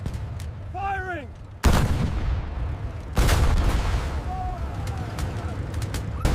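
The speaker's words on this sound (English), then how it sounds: "The bazooka round strikes, but fails to penetrate." A bazooka round fires and strikes German armor in a staged battle recreation, two loud booming blasts with long rumbling tails amid ongoing combat noise, a whistling tone sweeping in before them.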